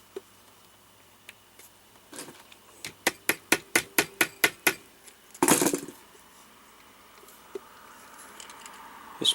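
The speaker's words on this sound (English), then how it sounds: "tapped on it over and over again to push that out" A pin is tapped out of an Elna Supermatic sewing machine with a homemade 2 mm metal drift, giving about nine quick, sharp, evenly spaced metallic taps, then a brief rattle and a few scattered clicks.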